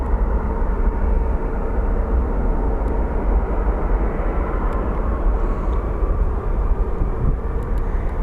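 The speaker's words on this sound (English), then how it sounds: "let's go take a look at the Embraer. We'll see exactly what will be landing here" Steady roar of an Embraer jet airplane landing at Sky Harbor International Airport in Phoenix, a continuous broadband engine and air rush heard from outdoors, loud and unbroken throughout.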